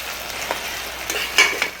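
Spoon stirring carrot, bean and potato pieces in a pan for veg dum biryani, soft scraping and clinks over a faint sizzle, close with no voices.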